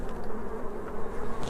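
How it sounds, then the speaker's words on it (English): Honey bees from a freshly installed package swarm around their new hive, a steady, dense buzz close by with no talking. "Oh yeah, lots of bee activity, lots of work going on."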